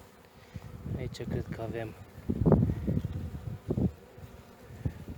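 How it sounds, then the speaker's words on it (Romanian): Honeybees buzzing around shaken hive frames heavy with honey, a faint steady hum under someone speaking close by. "după ce am scuturat ramele care erau ocupate de albine din lateral"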